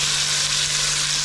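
Tomato dropped into a pan of golden-brown frying onions for a cabbage dish, giving a loud, continuous close sizzle with a faint steady hum beneath.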